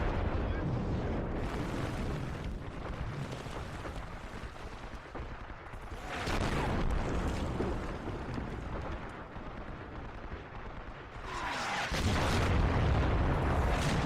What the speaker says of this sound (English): And there's that artillery.